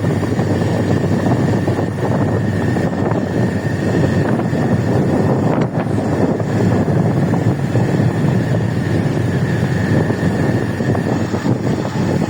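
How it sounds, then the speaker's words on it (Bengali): Several motorcycles ride together along a road, heard from one of the bikes as a continuous loud roar of engines and wind rushing past the microphone, with no break. "বাইক চালিয়ে যাচ্ছে। আমরা বাইকের মাঝে আছি।"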